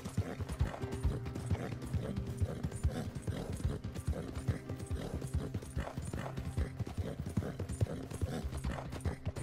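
Steady clip-clop of horse hooves at a walking pace in Red Dead Redemption 2, a continuous rhythmic plodding with faint creaks of tack, heard close and fairly loud with no talk over it.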